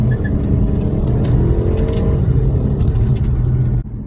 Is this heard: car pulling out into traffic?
yes